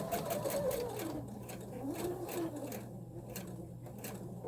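A sewing machine stitches a fabric drawstring pouch past a seam with a steady, fast mechanical whir and rapid needle clatter, close and continuous throughout.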